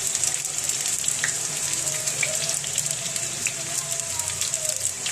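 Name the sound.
eggplant omelette (tortang talong) frying in oil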